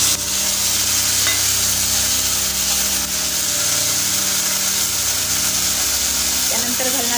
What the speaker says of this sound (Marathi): आता आपण त्यामध्ये घालणार आहोत धुतलेली